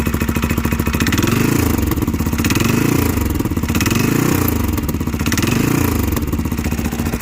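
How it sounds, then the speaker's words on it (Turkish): A CFMoto CForce 550 ATV engine revs up and down repeatedly, pitch rising and falling in three smooth swells over a steady rattly idle, loud and close. "gaz veriyorum şu anda."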